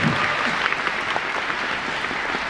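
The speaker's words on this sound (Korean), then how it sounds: "박수 한번." Warm studio audience applause during a Korean music talk show taping, a steady wash of many hands clapping at moderate loudness, with a faint voice briefly underneath near the start.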